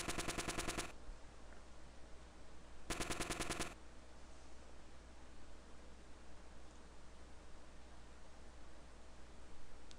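Bursts of rapid gunfire in the Mega Man V video game: two short, loud machine-gun-like volleys, the second about two seconds after the first, over a constant hissing background noise.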